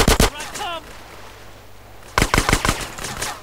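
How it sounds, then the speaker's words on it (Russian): Automatic gunfire in the video game GTA San Andreas, with sharp, loud bursts of rapid shots at the start and again after a quiet gap of about two seconds. "куда они стреляют?"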